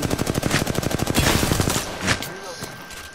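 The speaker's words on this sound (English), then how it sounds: "I am taking fire" A rapid automatic burst in Apex Legends season 9 ranked play, about twenty close, evenly spaced shots over roughly two seconds, then a single louder shot and a fading tail, with voices underneath.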